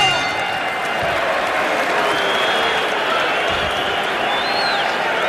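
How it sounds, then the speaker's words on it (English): A boxing arena crowd applauds and murmurs during the Mike Tyson vs Steve Zouski fight, late in a round. The noise is a thick, steady roar of clapping and crowd voices throughout, with occasional cheers rising above it. "the crowd is applauding the courage of Steve Zouski as much as they're applauding the efforts of Mike Tyson"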